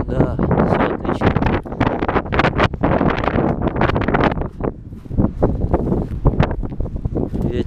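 A strong outdoor wind roars and buffets the microphone in loud, irregular gusts in a muddy village in Krasnodar Krai, with someone speaking over it at points.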